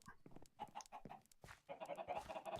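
A bunch of Minecraft chickens clucking in quick, uneven bursts, fairly close and alone with no talk, the calls bunching more densely toward the end.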